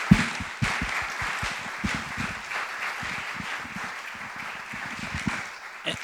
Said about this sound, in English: Let's give Ahmed and Ramin a round of applause